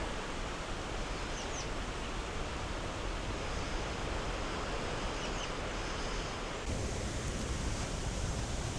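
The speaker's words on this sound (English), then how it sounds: "that waterfall sounds nice." A steady, dense roar of a waterfall at Stiles Cove, Newfoundland and Labrador, fills the air continuously, close and even, with no voices.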